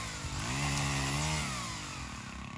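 A lineman's pole saw cuts steadily during storm restoration work, a loud continuous motor whine holding near and constant throughout with no talk.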